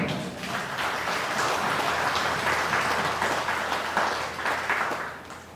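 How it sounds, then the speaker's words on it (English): An audience applauds steadily at a memorial tribute to the late Guyanese minister Sash Sawh, a continuous, moderately loud wash of clapping from many hands that eases off slightly at the end. "I ask us to applaud him."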